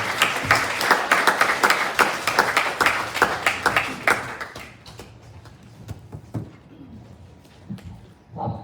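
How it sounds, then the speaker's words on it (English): A church audience applauds at a farewell and retirement celebration, loud dense clapping for about four seconds, then thinning into scattered claps that fade out. "Let's give them a round of applause for all the hard work they do here as well."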